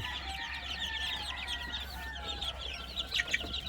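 Newly hatched chicks and grown chickens on a farm, a dense chorus of close high peeping with occasional clucks, continuous and fairly loud, with no talking.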